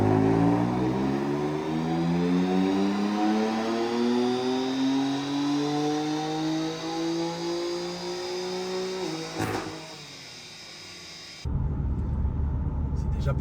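BMW M4 F82 with its S55 engine on a quick drive, revving up through rising gears with a strong, close engine drone, a brief shift break, then lower rumble and wind noise near the end.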